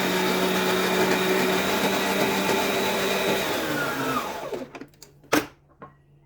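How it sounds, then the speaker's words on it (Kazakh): An electric hand mixer whirs steadily at close range, beating butter and sugar for kurabie cookies, then cuts off after about four seconds, leaving a few faint clicks and knocks. "қайтадан миксерімізді қосамыз"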